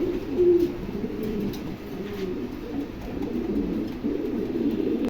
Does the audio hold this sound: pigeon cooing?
yes